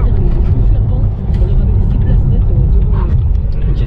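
A Porsche Taycan 4S electric car accelerates hard, giving a heavy, loud low rumble of road and wind noise that stays constant throughout, with voices in the cabin.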